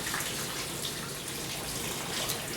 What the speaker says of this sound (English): So our rice should be sufficiently rinsed.